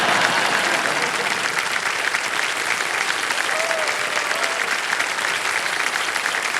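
A studio audience on the quiz show Kaun Banega Crorepati applauds: dense, steady clapping, loud and close, fills the whole six and a half seconds without pause.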